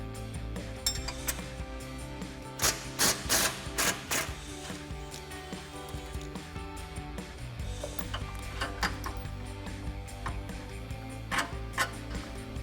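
A ratchet removes bolts from a Chevrolet Silverado frame during a front bumper install, with rapid clicking bursts and ticking spread across the clip over faint background noise.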